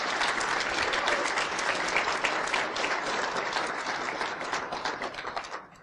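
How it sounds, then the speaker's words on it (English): An audience at a conference closing ceremony claps in a dense, steady burst of applause that carries on for several seconds and then thins out toward the end. "Give yourselves a round of applause"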